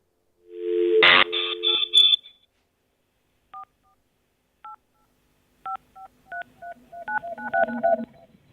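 Touch-tone keypad dialing a phone number during a morning radio call-in show, opening with a loud burst of sound, then a few sparse beeps that quicken into a rapid run of tones, clear and close.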